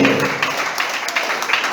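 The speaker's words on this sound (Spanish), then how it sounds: "Dale un fuerte aplauso." A church congregation breaks into applause, a dense wash of clapping from many hands that carries on steadily for a couple of seconds.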